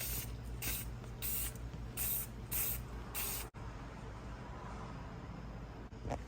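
Etching primer sprayed from a can onto a Chevrolet Silverado cateye truck, close hissing bursts in several short pulses, then a quieter steady background after a sharp click.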